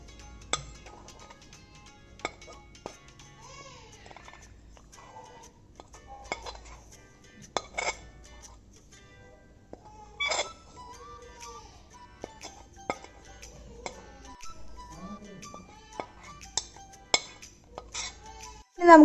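A spoon clinking against a bowl while gram flour and rice flour batter with spices is mixed for cauliflower fritters, with intermittent light taps and scrapes, fairly quiet and irregular.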